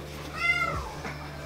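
A cat at a veterinary clinic gives a single short, faint meow that rises and falls in pitch, heard alone against a quiet room.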